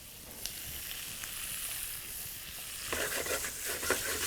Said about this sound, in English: And saute this well.